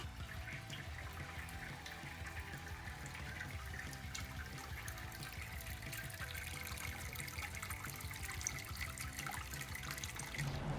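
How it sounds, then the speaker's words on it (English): About 12 litres of water pours and trickles steadily over a grain basket during homebrew sparging for several seconds, a continuous splashing stream, fairly quiet and without voices. "Once I've pulled the basket, I'll sparge with about 12 litres of water."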